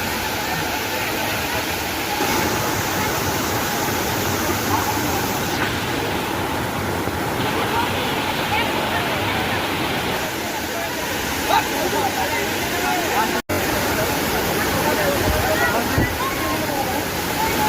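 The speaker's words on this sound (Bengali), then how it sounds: "চলে এসেছে গাইস বামনি ফলস" Bamni Falls waterfall roars as a constant, broad rush of falling water, loud and steady throughout, with faint voices and brief knocks mixed beneath the wash.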